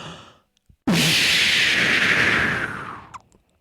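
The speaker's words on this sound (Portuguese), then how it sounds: "Bombinha de fumo." A smoke bomb goes off with a sudden loud burst and a sustained, hissing whoosh of smoke that gradually fades over a few seconds, standing alone with nothing else around it.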